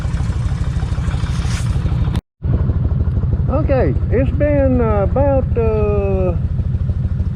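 A Kawasaki Vulcan 1600 motorcycle engine idles steadily and close by, a low even throb running throughout, with someone speaking over it partway through.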